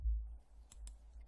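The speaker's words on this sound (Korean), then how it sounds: "클릭." A computer mouse clicked twice in quick succession, with short, crisp, faint clicks close by against a low hum.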